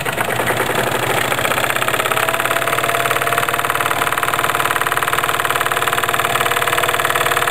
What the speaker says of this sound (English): So let's open the engine up wide and see what we get.